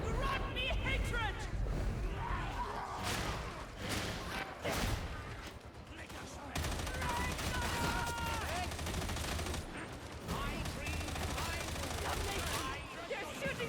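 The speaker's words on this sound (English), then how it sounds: "They're shooting at us!" Gunfire in the Warhammer 40K Darktide video game, rapid bursts and volleys of shots with thuds and crashes, loud and dense throughout, mixed with shouting and crowd-like voices.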